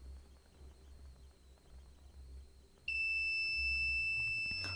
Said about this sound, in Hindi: हमने जैसे ही पाइप को फुल पानी के अंदर किया है तो बजर जो है वो ऑन हो चुका है